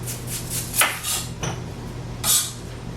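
A kitchen knife slicing through an onion on a flat cutting board while preparing an Italian sub sandwich: three or four crisp separate chops with sharp knocks against the board, close and fairly quiet, no talk.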